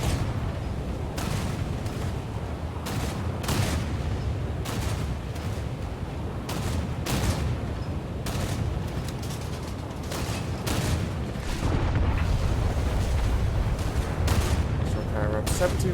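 Rear gun turrets of the Prinz Eugen cruiser fire in War Thunder, with repeated sharp cannon reports in an uneven sequence over a low rumble, and a voice talks alongside.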